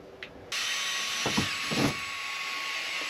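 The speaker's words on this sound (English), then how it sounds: "Now we can finish drilling the rest of the rivet out so we have a hole that goes all the way through." A power drill drills out a rivet on a 2026 Airstream air vent, running with a steady high whine after a short start, with a couple of louder grinding bites as the bit cuts through the metal.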